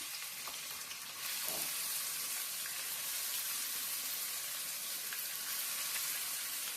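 Ivy gourd pieces, salted and squeezed beforehand, drop into a hot pan of oil; a dense, steady sizzle swells up after about a second and holds loud and close with no talking.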